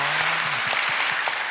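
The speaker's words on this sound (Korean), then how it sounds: "박수 한번 해주시기 바랍니다." Audience applause at a church young adults' joint worship service, a broad steady clapping wash filling the whole short moment, with a few faint voices mixed in.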